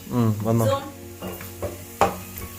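Onions sautéing in a pan for a green chicken curry give a soft sizzle close by, with a few utensil clinks and a brief tonal sound early on.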